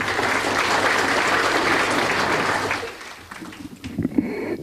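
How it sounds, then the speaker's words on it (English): Crowd applause at a 40th birthday celebration, a dense sustained clapping that fades after about three seconds into scattered claps and low room noise. "I think Ishwari deserves another massive round of applause, ladies and gentlemen"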